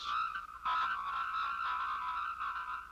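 A continuous, high-pitched warbling electronic signal from a compressed telephone transmission, chirpy and garbled like sped-up squeaky speech, steady and fairly loud with a brief dip early on.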